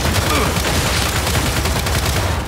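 Turret gunfire in the shooter game Gears 5, a dense, loud, continuous burst of rapid automatic shots with no pauses.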